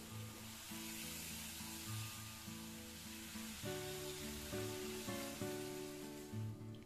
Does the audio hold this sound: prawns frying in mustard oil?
yes